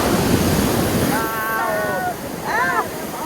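Sea waves washing on the shore at La Graciosa in the Canary Islands, a steady broadband surf hiss with wind on the microphone, while voices talk briefly over it.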